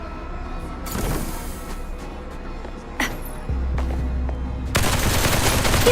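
Gunfire in the video game Duet Night Abyss, shooting powder kegs to detonate them: a few sharp, separated shots ring out, then a heavier low rumble and a loud burst of noise near the end, like an explosion.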